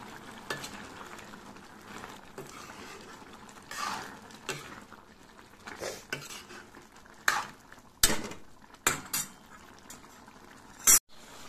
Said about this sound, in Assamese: এইখিনি উতলি আছে